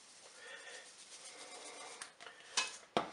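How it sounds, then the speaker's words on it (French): A lentil salad with dried garlic and parsley is stirred in a bowl, giving a quiet, soft scraping and shuffling sound with a few sharper spoon knocks near the end. "Voilà, je mélange tout ça."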